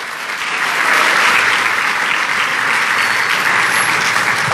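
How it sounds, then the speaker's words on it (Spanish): A church congregation breaks into loud, sustained applause, a dense wash of many hands clapping together that holds steady throughout, with no voices standing out. "dele un aplauso a Cristo Jesús"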